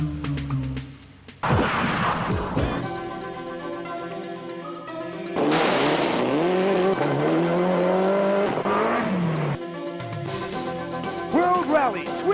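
Engine and tire sounds from the 1993 Zigurat/Gaelco arcade rally game World Rally, with a steady synthesized motor drone, squealing skids and rising revs, layered over game music through most of the stretch.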